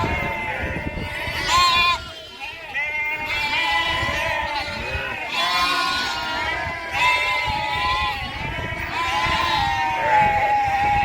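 A flock of sheep bleats loudly and continuously in a village, many overlapping wavering cries close by, with a voice heard among them.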